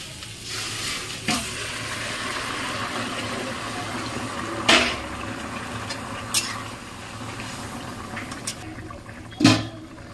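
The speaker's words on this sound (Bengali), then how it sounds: "এই জলটা ঢেলে দেবো।" Hot water is poured into a pointed gourd curry cooking in a pan, a steady soft sizzle with a few brief splashy bursts standing out above it.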